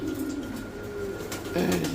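Pigeons, a red female and an ash-grey male, coo in low rolling notes, close and continuous, the cooing swelling louder toward the end.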